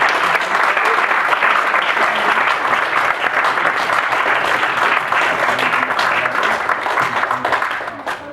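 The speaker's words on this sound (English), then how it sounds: "I think the whole panel deserves a round of applause." A crowd at a question-time panel event gives loud, sustained applause, dense and even throughout with no voices over it, then tapers off at the very end.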